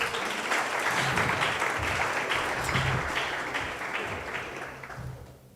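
An audience at a Christian church revival service claps steadily in a dense, continuous burst of applause that fades slightly toward the end.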